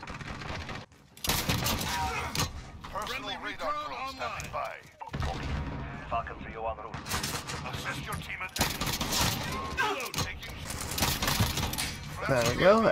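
JAK-12 shotgun blasts in Modern Warfare come as loud sharp bursts in irregular clusters with brief silent gaps, mixed with game effects while someone talks over the action.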